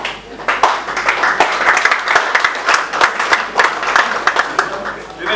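Scattered applause breaks out from an audience at a legal advice presentation in Cameroon, uneven bursts of clapping rising and falling over a few seconds.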